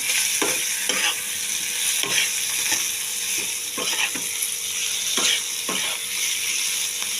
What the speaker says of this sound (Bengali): এই দিয়ে আমি ভালো করে তাকে ফ্রাই করে একটু মশলা মশলা বানিয়ে নেব